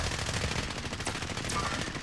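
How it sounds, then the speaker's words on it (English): Sustained rapid automatic gunfire in Warzone, a dense continuous burst of shots with a few sharper cracks standing out, loud and close for the whole stretch. "Uh oh, I'm getting shot. Oh shit. They're sniping at us."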